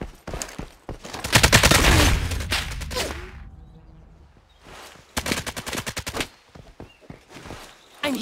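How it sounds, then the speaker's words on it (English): Bursts of gunfire in the video game Lost Light, a loud dense fusillade of rapid shots over the first three seconds, then a lull, then more volleys of sharp shots near the end. "Hostile fire."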